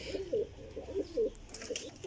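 A Teddy flying pigeon, a champion bird, coos in a steady repeating pattern of soft, throaty phrases, about five close calls with a faint chirp near the end.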